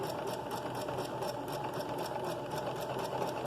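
An electric sewing machine stitching at steady speed set by a foot pedal, a continuous close mechanical whir with a fast regular needle rattle throughout.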